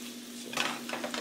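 Hot dog buns toast in butter in a pan, giving a steady low hiss and sizzle with a faint utensil scrape and clink partway through, close by and without talk.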